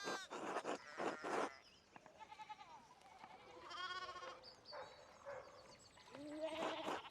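Sheep in Pentiment bleating repeatedly, a string of wavering, goat-like cries close by, with a few louder calls at the start and end and no talk.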